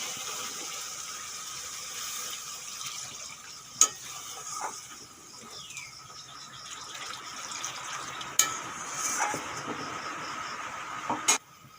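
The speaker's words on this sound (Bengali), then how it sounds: "মশলাগুলো ভালোভাবে কষানো হয়ে গেছে তেল ছেড়েছে এখন দিয়ে দেবো জল" Water poured into oil-fried spice paste in a pan for Bengali macher tel jhol fish curry, giving a steady bubbling sizzle with a few sharp clinks from utensils.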